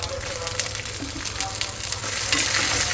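Small river prawns frying in a kadai, a continuous close crackling sizzle with scattered sharp pops that grows slightly louder toward the end.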